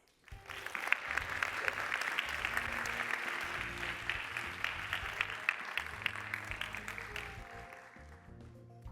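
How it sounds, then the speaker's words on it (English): Sustained applause from a large audience at a fintech CEO summit fills the room, steady and dense with a few brief voices, then tapering slightly toward the end. "please let's make a round of applause"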